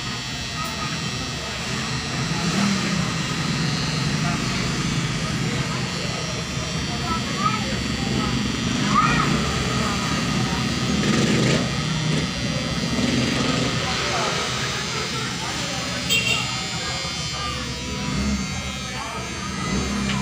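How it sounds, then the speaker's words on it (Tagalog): Loud electric razor buzzing right beside the ear, a steady motor drone lasting throughout with people talking over it. "Ang lakas po yung razor, ang lakas matanggal yung tainga"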